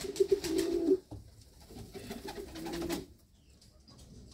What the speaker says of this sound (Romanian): Un porumbel frumos.